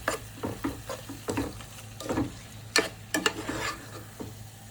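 A spoon scrapes and stirs through thick chicken curry gravy in a pan in short, uneven strokes, with a soft sizzle underneath, close by and alone.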